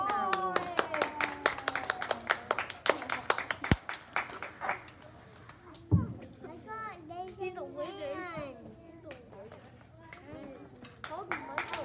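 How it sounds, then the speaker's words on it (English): A pre-kindergarten awards ceremony fills with a burst of scattered hand clapping, sharp claps in a quick patter that fades as young children chatter and move about nearby. "Round of applause for Ms. Taroki."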